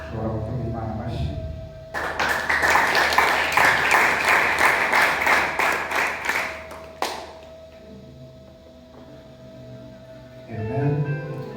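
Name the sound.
audience clapping for God in church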